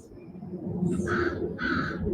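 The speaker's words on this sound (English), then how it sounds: "We hear the birds chirping." Two loud, harsh crow caws, each a short burst, ring out outdoors near flowing water over a steady low ambient rumble, with a brief pause between them.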